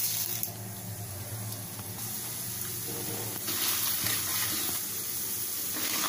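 Mustard seeds, cumin, chana dal and urad dal fry in hot oil for an aloo fry, giving a steady close hiss and sizzle with scattered faint pops and crackles throughout.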